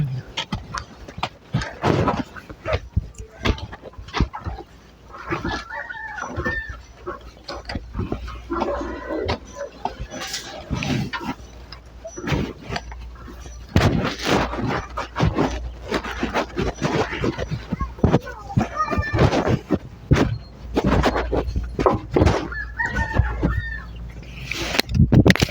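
Chickens cluck in short, scattered bursts close by, mixed with clattering and rustling noise and occasional background talk.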